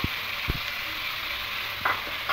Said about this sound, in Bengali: আর এখানে দিয়ে দেবো আদা রসুনের পেস্টটা